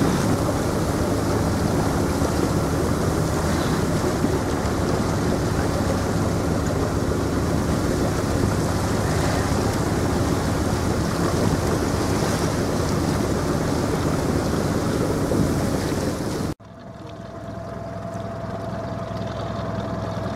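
Steady loud rush of a strong river current near a barrage, with wind buffeting, continuous for a long stretch, then abruptly quieter as a softer flow continues.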